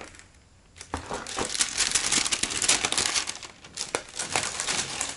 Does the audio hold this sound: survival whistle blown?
no